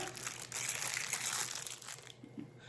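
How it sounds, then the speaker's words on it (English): Packaging crinkles and rustles steadily as parts of a gold decorative candlestick are unwrapped by hand, close up, before the noise cuts off near the end; nobody speaks. "and then unwrap one more."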